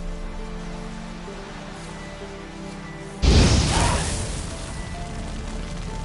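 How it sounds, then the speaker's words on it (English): Igni fire sign cast in The Witcher 3: a sudden loud burst of whooshing flame that cuts in over quiet ambience, then tails off gradually over a couple of seconds. "Now for a shot of Igni."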